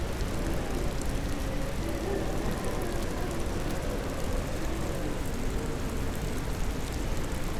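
Steady rain in the Ghost Master video game, summoned by Black Crow's power: a continuous broadband wash of falling water with no breaks, holding at an even level throughout.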